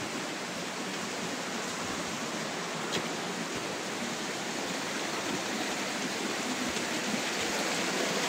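Steady rain falling outdoors on a mountain trail, a dense, even hiss that holds at the same level throughout with no pauses, sounding close and all around.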